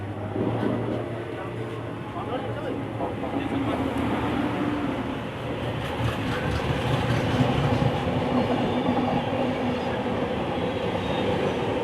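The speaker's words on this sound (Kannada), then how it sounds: "ಸಂಗಮಿತ್ರ ಎಕ್ಸ್ಪ್ರೆಸ್ ಜೊತೆ ಇವಾಗ ಕ್ರಾಸಿಂಗ್ ಇದೆ ನೋಡಿ ಅದು ಹೆಂಗಿದೆ ಅಂತ" A train passing the Sanghamitra Express at a crossing, heard from aboard an Onam special train running from Bengaluru to Palakkad; a steady, loud rumble of wheels and carriages continues throughout with low murmuring voices.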